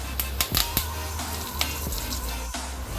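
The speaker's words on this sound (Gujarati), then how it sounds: "હવે જીરું તતડી ગયું છે. તો હવે આપણે એની અંદર હિંગ નાખીશું. આ કઢી પત્તા નાખીશું." Curry leaves, asafoetida and cumin seeds crackle in hot oil, a sizzling bed punctuated by several sharp pops and spits clustered early, then scattered bursts; no one speaks.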